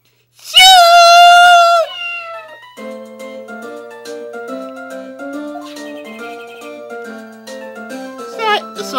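Loud, high cat meow from Shoo the cat in the Phoenix Wright game, followed by chiming game music and character blips with a voice talking over it.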